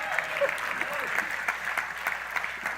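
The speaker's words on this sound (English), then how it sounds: "Clap loud" Church congregation clapping during a sermon on increase, moderate and steady with some crowd voice mixed in, fairly close.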